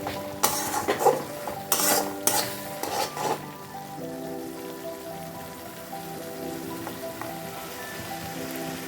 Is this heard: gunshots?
no